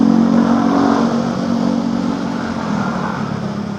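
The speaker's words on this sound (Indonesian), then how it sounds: "Motor terlalu berisik ya, kita harus susul dulu ya" Loud, steady drone of a motorcycle engine riding along a road between Bekasi and Jakarta on a morning commute, with rushing road and wind noise and no speech.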